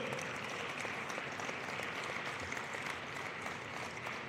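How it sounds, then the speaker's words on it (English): Audience applause fills an arena at a rededication ceremony, a dense steady wash of many hands clapping, quiet and somewhat distant, continuing evenly without pause. "Please give another round of applause for the Alfred and Bernice DeSimone Arena."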